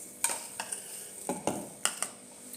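Metal clanks and scrapes as a kadhai (wok) is set onto a gas stove, with several sharp close knocks and brief scraping contacts spaced irregularly over a quiet kitchen background.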